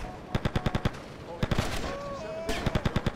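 Rapid bursts of automatic gunfire from GTA Sindacco Chronicles gameplay, three quick volleys of about five to six sharp shots each, loud and close, with game sounds and faint voice in between.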